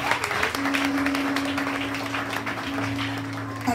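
A church congregation applauding and cheering, sustained clapping from a crowd with a held vocal tone running through it, loud and continuous.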